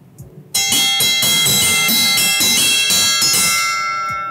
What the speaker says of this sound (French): C'est comme la cloche de récréation, mais pour le dîner.